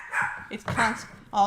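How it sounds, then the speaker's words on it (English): A dog barks in a few short, sharp bursts, the loudest near the end, mixed in with a person talking indoors. "excuse the barking"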